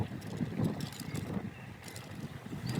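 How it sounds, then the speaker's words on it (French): Strong wind buffets the microphone on an iScooter iX7 Pro electric scooter ridden at moderate speed, a rough, fluctuating low roar with gusty swells and no voices. "Il y a énormément de vent, pile au moment où je dis ça."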